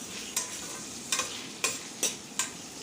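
Cumin seeds and garlic with bay leaves sautéing in oil for chickpea pulao, a low constant sizzle marked by five sharp spatula taps against the pan at uneven intervals.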